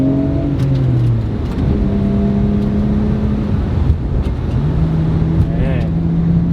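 Nissan R34 GTR driven hard around a small private circuit, its engine revving and shifting through rising and falling pitches, loud and close, with a bit of talk underneath.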